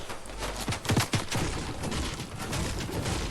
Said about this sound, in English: And they're getting shot at by the NPCs who are now also going to come close enough that they aggro me.